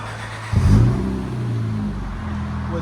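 A 2007 Honda Accord with a 3.0L V6 and Dynomax Race Bullet exhaust revs sharply once, a loud close burst that settles into a steady, throaty hold.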